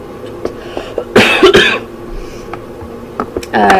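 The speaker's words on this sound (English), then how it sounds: "Like I've got a cough." A couple of harsh coughs burst out in quick succession, close and loud, with quieter throat noises and a brief sharp sound near the end.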